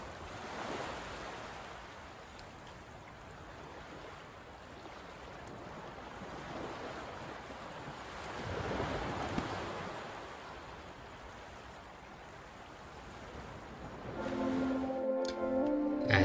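Waves crash on a shore in the video game Anodyne 2, a soft wash of surf that rises and falls steadily, with a short burst of a different tone near the end.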